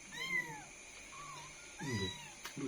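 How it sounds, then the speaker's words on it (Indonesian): Young kittens that have just learned to walk give several thin, high meows in a quiet room, in short separate bursts, close by and fairly soft. "Meow."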